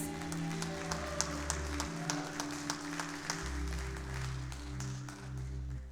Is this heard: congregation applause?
yes